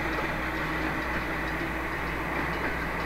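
Steady, loud rumble of a Hokuriku Railway Ishikawa Line train with nose-suspended motors, the motor hum and wheel noise holding constant throughout without pause.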